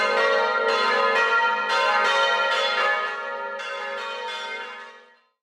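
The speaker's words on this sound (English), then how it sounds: "Climbing the bell towers for the views and hearing the mighty bells ring" Mighty church bells ring in a bell tower in Croatia or Slovenia, heard up close and loud as overlapping strikes swell and sustain, then fade out into a long, ringing decay.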